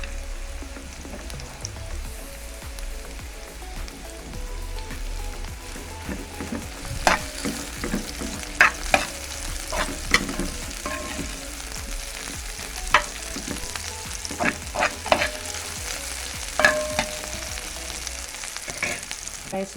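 Onion frying in hot oil with about eight pimento seeds while preparing Jamaican escovitch fish, giving a steady close sizzle with scattered sharp stirring clicks and scrapes in the second half, and no talk.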